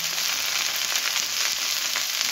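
Onion and green chilies with okra sizzling in oil in a pan, a steady bright crackling fry throughout, fairly close and even.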